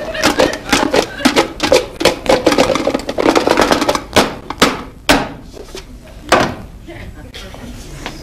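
Lobster pieces are shaken with tapioca starch inside a covered container, making a rapid, close rattling and knocking that comes in quick bursts, then thins out into a few separate louder knocks.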